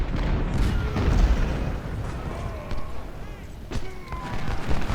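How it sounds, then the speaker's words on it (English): Enemy artillery bombardment in the Civil War strategy game Ultimate General: Civil War, with deep booms and rumbling blasts rolling continuously under a background of battle noise, some shots nearer and louder than others. "Maybe, if we are lucky, we can then attack enemy artillery to end their bombardment."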